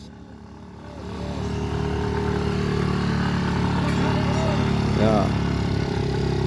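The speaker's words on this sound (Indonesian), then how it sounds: "Oke, satu motor dari bawah ini sepertinya NMAX nih ya." Yamaha NMAX scooter climbing a steep hill road, a steady engine hum rising as it nears and stays close, with someone briefly speaking over it.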